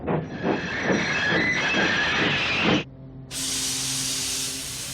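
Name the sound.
Thomas the steam engine's brakes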